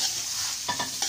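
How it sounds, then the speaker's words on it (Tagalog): Shrimp dropped into a hot pan for pancit canton fry and sizzle up close, with a steady hiss and a few short stirring scrapes near the end, no voices. "Tapos lagyan na natin yung ating hipon"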